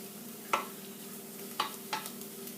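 Choux pastry dough being stirred and dried in a saucepan over heat, with three short scraping strokes over a soft, low sizzle; close and fairly quiet, no talking.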